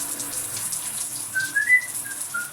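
Shower water running steadily while conditioner is rinsed out of curly hair, a soft continuous hiss close by with a faint whistling tone in the second half, no talk.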